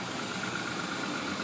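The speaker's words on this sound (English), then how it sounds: "See, the engine runs, but as you can see, the smoke out the back." A 2002 Audi A6 3.0 quattro at an auction inspection runs steadily at idle, a continuous close engine drone with smoke from the exhaust and an internal oil leak burning, no talk over it.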